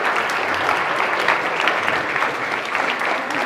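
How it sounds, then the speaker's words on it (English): Applause from an audience at a Holocaust education panel discussion, a dense steady wash of many hands clapping close and loud, holding even throughout without voices. "Let's give them both a round of applause."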